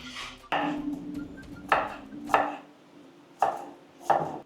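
A knife chops ingredients for fish curry on a board in irregular sharp strikes, about six distinct hits with pauses between, close and clear over a faint background hum.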